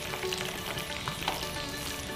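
Coconut frying in a pan for chholar dal, a steady close sizzle with faint crackles and no voices.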